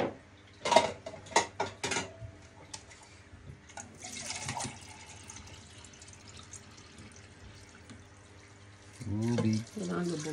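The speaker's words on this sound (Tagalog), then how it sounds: "Lagyan natin ngayon tubig." Clanks of a pan and utensils, then water poured into a pan of bangus sardines, a short splashing gush near the end, with quiet talk in the background.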